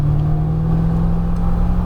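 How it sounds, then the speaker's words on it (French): A 647 hp Corvette ZR1 roars steadily close by on a race circuit, accelerating out of a corner with a continuous deep hum and rising mechanical whine. "À l'approche de la corde, j'élargis, j'accélère vers mon point de sortie."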